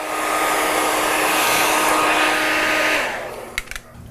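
A hair dryer blows steadily on a beard with a loud whooshing hiss for about three seconds, then shuts off, leaving a few faint clicks.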